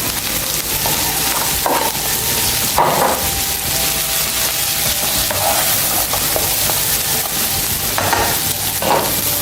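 Broccoli sizzling loudly in hot garlic-flavoured oil in a pan, a dense continuous crackle with brief scraping stirs breaking through every second or two, close and without talk.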